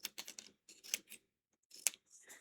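Scissors snipping paper strips into small pieces, a run of quick, crisp close-up cuts in irregular bursts with short pauses, quiet and without talk.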